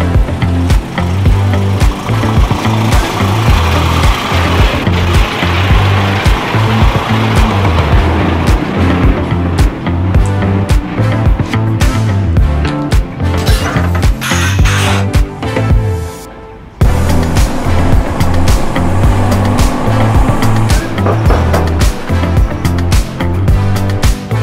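A DAF XG 480 truck on the road, pulling a 38-ton gross load with a steady, loud engine drone and rhythmic rumble that dips once briefly before resuming.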